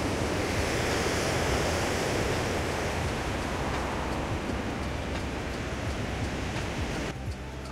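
The waterfall at Chagrin Falls, Ohio, heard from a downtown overlook as a loud, continuous rushing roar of falling water, steady and broad like surf, with a slight dip near the end and no voices.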